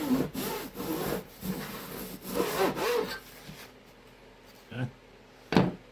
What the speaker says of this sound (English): And I'll trim this back. On this side.